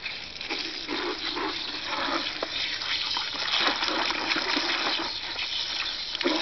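Water gushes and splashes steadily into an ordinary bucket holding a handful of vermicaste, a close, continuous pour with small sloshing spikes.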